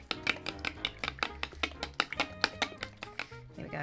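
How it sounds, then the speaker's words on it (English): Crumbled feta being stirred through a spinach pie filling, a steady run of quick, close tapping and scraping strokes of a utensil against the bowl, with no talk. "Give that a bit of a mix around."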